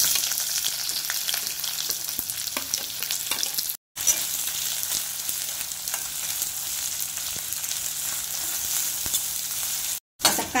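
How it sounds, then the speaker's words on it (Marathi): Onion frying in a spoonful of oil in a pan for a dry prawn curry masala, a steady, loud, close sizzle with faint stirring clicks, running on without talk apart from two brief drops to silence. "आपण कांदा भाजून घेऊया।"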